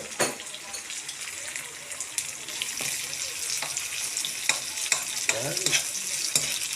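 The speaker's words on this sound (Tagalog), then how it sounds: "Gisa rin natin yung kamatis." Tomatoes sautéing with onion and ginger in a pan, a soft steady sizzle with scattered clicks and scrapes of stirring, fairly quiet, and a brief word spoken over it.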